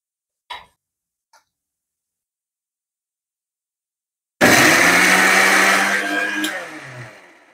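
A mixer grinder whirs loudly as it grinds roasted coconut dry in its jar. Two small clicks come first, then a few seconds of silence, then a sudden motor burst that runs for about three seconds and winds down.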